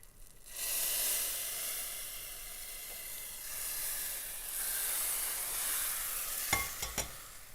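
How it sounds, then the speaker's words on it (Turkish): Hot mint-infused oil poured over soup in a kitchen, producing a steady, loud frying sizzle and foaming hiss that fades slightly, then a few sharp crackles near the end. "ve çorbanın üzerine nanemizi döktük"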